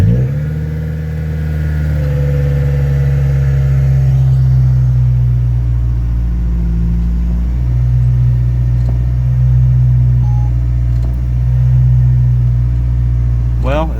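Honda Civic engine cranking to life and settling into a steady, low idle rumble, close and loud throughout, with a brief rev and small clicks near the end.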